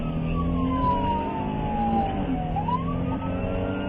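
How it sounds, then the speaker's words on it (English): A police car siren wails during a dashcam pursuit of a Camaro that will not stop, its tone sweeping down and back up over loud, continuous engine and road noise. "an officer signaled the Camaro to stop, activating their lights and siren"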